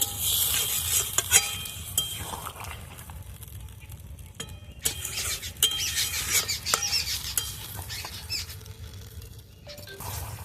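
Brinjal curry with a little water and salt simmers in a pan while a spoon stirs it, giving irregular scraping clicks and taps over a soft bubbling sizzle, near and fairly quiet, with no speech.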